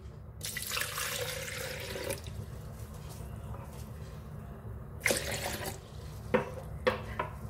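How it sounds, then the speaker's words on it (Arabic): A cup and a half of water poured into a blender bowl while making eggless caramel cream pudding, a close, hissing pour lasting nearly two seconds, then a second short gush followed by a few small clinks and splashes. "أول شي بوعاء الخلاط رح اخد كباية ونص من المي"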